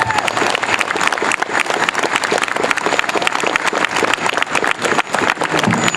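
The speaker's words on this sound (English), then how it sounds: "I think that deserves a hearty round of applause." A convention audience at a Stargate SG-1 actor interview breaks into a hearty round of applause, loud, dense clapping with some cheering that continues strongly without a break.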